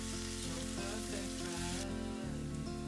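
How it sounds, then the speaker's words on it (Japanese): Chopped onions fry in a pot for a spice chicken curry, a steady, close sizzle with a bright crackling hiss running evenly throughout, with no voices. "玉ねぎが濃いめの茶色になるくらいまでじっくり炒めるわけです。"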